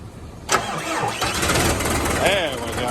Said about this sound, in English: I'm going to give it another shot, see if we can't get it to fire up.